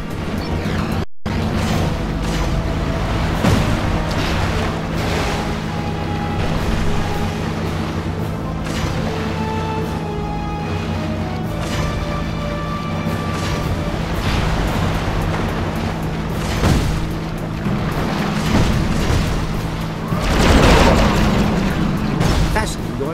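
Torpedo explosions in Secret Agent Clank come as repeated heavy booms and crashing bursts over a constant underwater-like rumble, with a bigger blast near the end, under speech and music.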